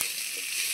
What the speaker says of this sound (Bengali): দিদা এবার সেগুলো দিয়ে ভালো করে চিংড়ি মাছের সঙ্গে নাড়াচাড়া করে ভেজে নিচ্ছে